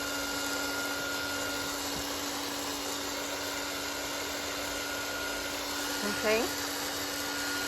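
An electric heat tool blowing hot air to dry paint on a painted background book, a steady whirring hum throughout, close, with a brief spoken word near the end.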